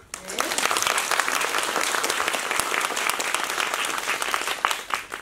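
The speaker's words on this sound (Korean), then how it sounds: "박수 먼저 한 다음에 큰 박수 부탁드리고요" An audience at a Busan International Film Festival community screening and talk bursts into loud, sustained applause, dense clapping that fills the hall steadily for several seconds.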